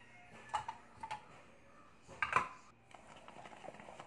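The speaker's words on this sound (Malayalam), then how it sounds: "നന്നായി കുറുക്കും വരെ ഇത് ഇളക്കി ഇടക്കിടക്ക് ഇളക്കിക്കൊണ്ടിരിക്കണം." A spoon scrapes and taps against a pan while stirring a thickening orange candy mixture, giving a few light, close clinks spaced irregularly over quiet background.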